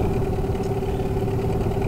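A Hidea 9.9 two-stroke outboard motor idling on a Flint 360 boat, a steady, quiet, even drone with a constant low hum and no revving, heard alone and close.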